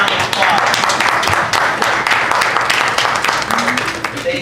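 Applause at a Goddard family reunion as relatives of Aunt Rosie stand, a dense steady clapping from a gathered crowd lasting throughout, with a brief voice rising near the end.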